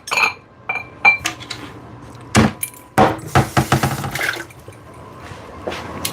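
Glassware and dishes clink and clatter in a kitchen as a drinking glass is picked up and handled, with several sharp knocks and rattles spread unevenly across the moment and no talking.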